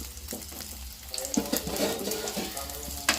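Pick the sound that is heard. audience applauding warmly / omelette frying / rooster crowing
omelette frying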